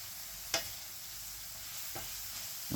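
Dried herbs, all-purpose and jerk seasoning and pimento powder are stirred into sausage and tender vegetables in a pan: a soft, steady sizzle with a few sharp spatula taps against the pan.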